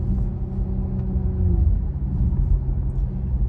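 A Porsche Macan Turbo's 3.6 V6 with a quick-shifting PDK gearbox gives a steady, deep engine drone heard from inside the cabin, with a brief swell partway through that may mark a gearshift.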